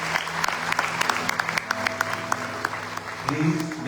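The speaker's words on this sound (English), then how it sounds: "Please give them a round of applause." An audience at a night-time satsang in Durban, South Africa, applauds the musicians with steady, close clapping from a crowd that fills the room, while a voice carries on over it.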